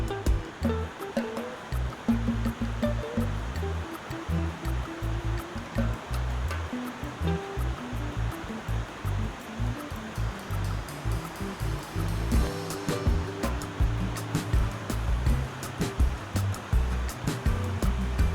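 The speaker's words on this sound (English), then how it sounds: "We had no idea you could go behind the waterfall." Rushing water of a tropical-style waterfall in Tennessee roars steadily and loud throughout, a dense continuous wash of falling water with no voices.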